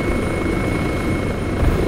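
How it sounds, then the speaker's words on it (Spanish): Enemy helicopter in the Arma 3 video game during a night battle, a loud continuous rotor roar and engine rumble filling the scene, close and steady with no talking. "Helicóptero enemigo a la voz."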